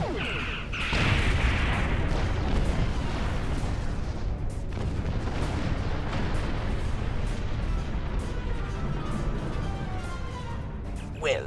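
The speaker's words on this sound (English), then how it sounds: "High yield torpedoes." High-yield torpedoes fire and burst in a Star Trek Online space battle, a loud sustained barrage of booming explosions and rumbling blasts that fills the whole stretch.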